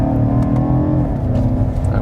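A 2019 BMW M5 G30 sedan in exhaust mode booms on a downhill road during a gearshift, a loud, close, continuous engine and exhaust drone with a brief dip as the gear changes.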